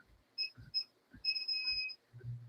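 A treadmill gives a few short electronic beeps in quick succession as it reaches maximum incline, faint, with soft low thumps between them.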